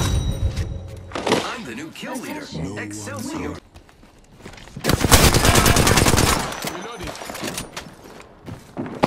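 Video game gunfire hitting an enemy shield, loud close bursts of rapid shots with metallic impacts, alternating with stretches of a voice talking between volleys.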